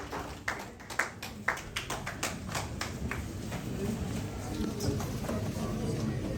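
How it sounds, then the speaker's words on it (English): Applause for a close-up magician at a Ghanaian event, heard as a handful of sharp separate claps at first that swell into steadier, softer clapping from a crowd, fairly distant, with voices talking through it. "One more round of applause for the close-up"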